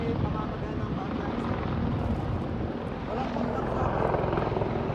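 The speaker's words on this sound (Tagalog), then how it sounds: "Oh, tayo yung hinahanap na helicopter." Helicopter flying overhead during a ride on Mount Parihaka, New Zealand: a steady, loud rotor and engine roar filling the whole clip with no pause.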